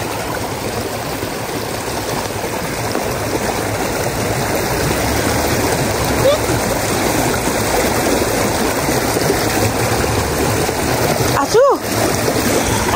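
A cold mountain stream flows loud and steady where children play in the water, a continuous rushing wash with occasional splashes and a brief voice near the end.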